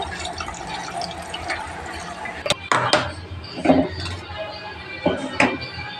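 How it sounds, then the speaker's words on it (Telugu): Leftover water splashes and trickles into a metal pressure cooker, with a few clinks and knocks of cookware in between. "మిగిలిన వాటర్ కూడా పోసేయాలి."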